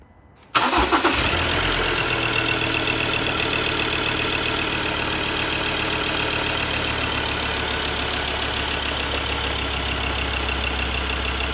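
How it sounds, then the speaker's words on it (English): A diesel engine cranks and catches just after a short quiet start, then settles into a steady, loud, close idle with a low rumbling drone while an injector-cleaning purge runs through the fuel lines. "we'll start up the engine"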